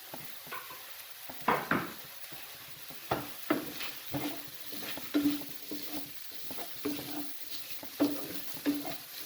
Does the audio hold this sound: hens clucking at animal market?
no